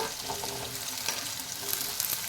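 Carrots, beans and eggplant sizzle steadily in a pan in a home kitchen, with soft scraping from stirring and light crackles throughout and no talking.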